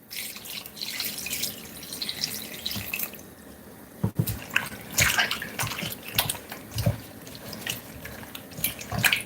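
Running water from a tap splashes over raw chicken back being washed in a sink for Jamaican cooking, a steady close rush with drips and uneven splatter throughout.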